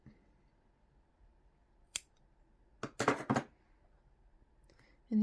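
Scissors snip through crochet yarn at the finish of a small crocheted fish cat toy: one faint early click, then a quick cluster of two or three sharp cuts, close and loud against a quiet background.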